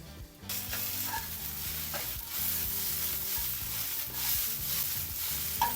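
Coriander is stirred into sizzling Agri-Koli style mutton curry, with a steady frying hiss under repeated close scraping and stirring strokes of a spoon against the pot.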